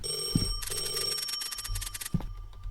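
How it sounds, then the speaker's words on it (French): Electronic telephone ringing inside the Roblox game Mulberry County: two bursts of rapid bright trilling bells, the second longer, with short gaps and a few faint thumps. "Oh, le téléphone."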